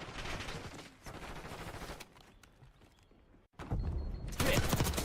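Shotgun blasts and submachine-gun fire in a video game sound close and loud, with rapid bursts that drop into quieter pauses before a heavier volley at the end.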